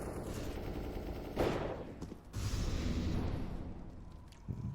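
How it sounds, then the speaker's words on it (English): Dual Beretta pistols firing in a Counter-Strike match on the Nuke map, heard as quick bursts of sharp shots mixed with other gunfire and game noise, moderately loud and close. "Bolts also fancies a set of Berettas."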